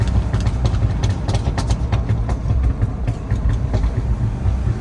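Ford Ranger Raptor with its standard exhaust and factory mufflers, exiting through side pipes, rumbling loud and close at idle with a steady pulsing low drone throughout.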